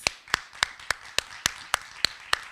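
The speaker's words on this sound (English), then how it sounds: "can we give Professor Hutchins a round of applause" Applause for a professor at a college community event comes through as nine crisp, evenly spaced claps, a steady rhythm of distinct hand strikes rather than a dense crowd wash.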